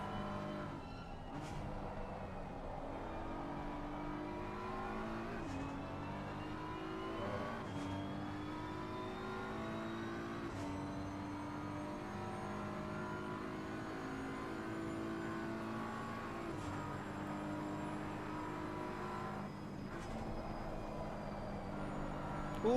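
BMW GT3 race cars lapping Suzuka in a sim racing game, a steady layered engine drone with rising and falling gear shifts from several cars, continuous and moderately loud.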